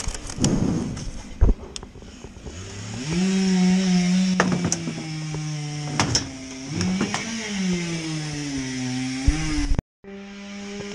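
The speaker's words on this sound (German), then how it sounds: "Dominik ist ja noch fleißig am Sägen, deswegen habe ich noch Gehörschutz auf" A chainsaw cuts steadily during tree felling, its engine note rising and falling under load as it bites into the wood. It runs loud and close for most of the clip, with a brief cutout near the end.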